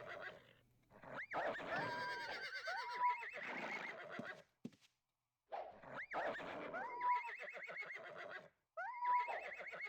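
Horse whinnies from Ultima Online, two loud neighing calls with a descending pitch wail separated by a short silence, mixed with game sound effects and clip-clop.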